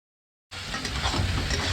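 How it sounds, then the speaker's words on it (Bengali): Shrimp frying in a pan sets off a steady, dense sizzle after a brief silence, continuing loud and close with no talk. "এই যে দেখো চিংড়ি মাছটা প্রায় অলমোস্ট ডান, এরকমই ভাজা ভাজা।"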